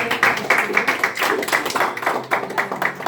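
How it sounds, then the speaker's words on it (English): A small audience claps at a VIP agents training session, brisk close-up hand claps in quick irregular bursts, fairly loud and dry, with no voice over them. "So let's give Ralph a big applause."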